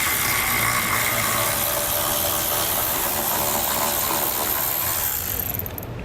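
A ratchet wrench loosens 14mm bolts under a 2007 Subaru Forester with rapid clicking under a steady mechanical whir, loud and close, continuing throughout before easing off at the end.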